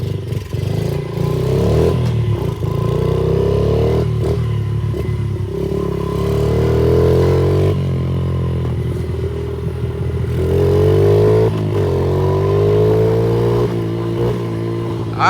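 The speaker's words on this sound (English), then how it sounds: "We're back on track with our little Honda 50 here. Let's take it on a quick test spin" Honda 50 pit bike engine revving on a test ride, loud and close with repeated rising and falling throttle pulls and some rattling clatter, heard alone without talk.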